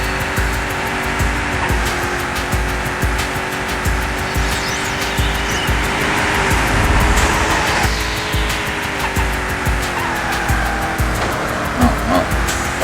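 Race cars in the video game P.O.D., including an AV1 car, roar continuously with harmonic engine drone and tire squeal, loud and steady throughout.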